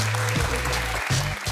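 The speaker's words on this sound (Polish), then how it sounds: "Jeszcze raz gromkie brawa." Loud applause from a studio audience on a Polish talk show, dense and continuous, with a low musical bed running beneath it through the short burst.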